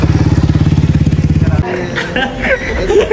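A 250cc dirt bike idles close by on a Hippie Hill trail ride with a fast, throbbing, loud engine pulse that stops abruptly, followed by nearby chatter and murmuring voices.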